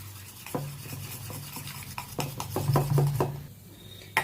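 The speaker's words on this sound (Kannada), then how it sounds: "ನೋಡಿ ನಾನೊಂದು ಬೀಟರಿಂದ ಕ್ಲೀನಾಗಿ ಬೀಟ್ ಮಾಡ್ಕೊಂಬಿಡ್ತೀನಿ" Eggs beaten with a beater for an omelette, rapid scraping and clinking against the bowl in uneven bursts, with a low background hum and no voices.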